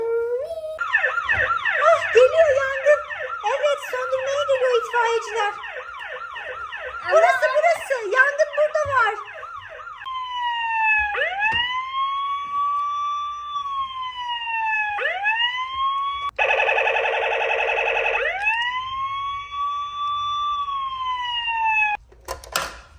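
A toy fire engine siren wails in rising and falling electronic sweeps, loud and close, with a rapid warbling section and short pauses between cycles.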